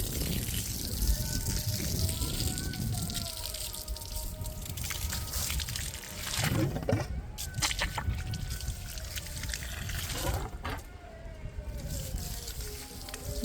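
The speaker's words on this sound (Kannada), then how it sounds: "ನಾವೆಲ್ಲ ಗಿಡಕ್ಕೆ ಬಿಡ್ತೇವೆ ನೀರು." Water from a farm well pours and trickles onto garden plants, a steady splashing flow with dripping and sloshing that runs throughout, loud and close, with faint voices in the background.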